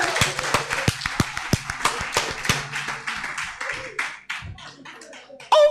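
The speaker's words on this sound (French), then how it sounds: "Applaudissez les femmes." An audience at a panel on marriage preparation claps, sharp individual hand claps at first close together then thinning into scattered, uneven claps, with some faint voices mixed in.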